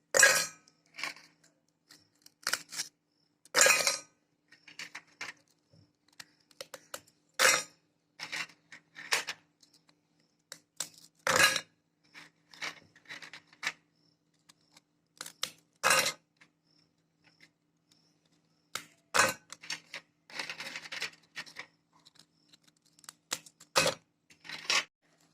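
Crisp biscuits snapped by hand and dropped into a grinder jar, a string of sharp dry cracks and clinks at irregular intervals, close and fairly loud with quiet gaps between.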